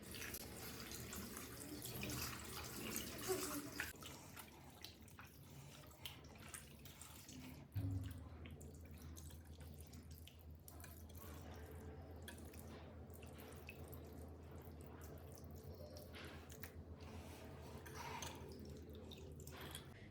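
Minced mutton, about three quarters of a kilo, rinsed under a running kitchen tap: a steady rush of water with splashing and drips, fairly loud and continuous with no talk.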